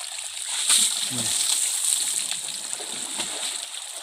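Water splashed onto a body outdoors on a hot day at the sea, a few broadband sloshing splashes over steady background wash, with a voice speaking briefly in between.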